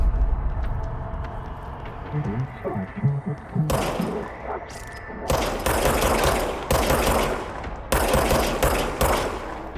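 Bursts of service weapon gunfire in the game Control, rapid shots in short volleys over a steady low hum and rumble, loud and close.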